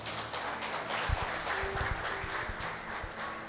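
Church congregation applauding, a brief burst of scattered hand claps with some louder close claps over a washy room echo, lasting a few seconds.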